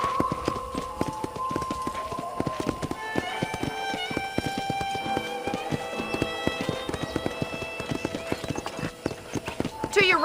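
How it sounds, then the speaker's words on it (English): Steady clip-clop of horse hooves at a walking pace in the video game Red Dead Redemption, with talking and background music layered over the rhythmic beats throughout. "let's see if you can still ride a horse."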